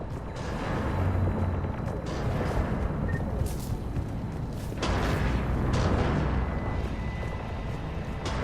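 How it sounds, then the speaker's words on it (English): Heavy cannons fire during a Mass Effect 3 battle, booming repeatedly amid rumbling explosions and mechanical clatter, loud and close, with a sharp high crack midway and no clear talk. "Those cannons have to be stopped."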